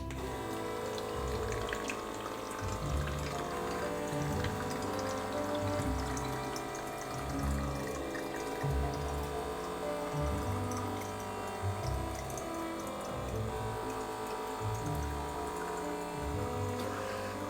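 Water from a tap runs steadily into a water bottle, a continuous broadband rush and splash that goes on without a break, close to the microphone with no talking.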